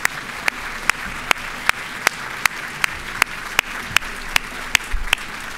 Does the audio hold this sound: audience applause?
yes